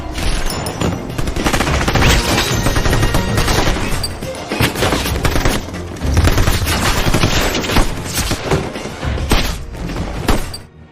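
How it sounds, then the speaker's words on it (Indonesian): Sustained machine gun fire in an action-film shootout, dense rapid bursts with crashing impacts and shattering debris, loud and continuous with brief lulls. "John dan Jane sempat kewalahan dan nyaris tumbang dihujani tembakan."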